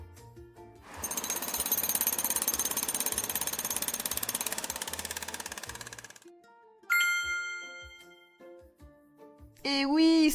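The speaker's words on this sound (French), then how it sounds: "Et oui, ça c'est un marteau-piqueur!" A loud jackhammer pounds in a steady rapid rattle for about five seconds, then cuts off, followed by a bright ding and a short rising tone at the very end.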